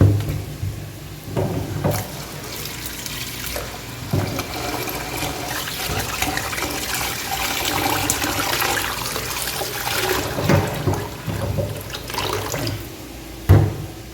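Basmati rice being washed in water for mutton dum biryani, with steady close sloshing and trickling of water and a few louder splashes, no talking.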